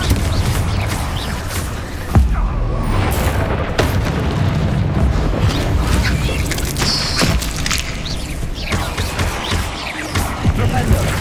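Confringo blasting curse explosions in the Hogwarts Legacy video game: repeated booming blasts with sharp bursts, full and loud, within dense continuous battle noise.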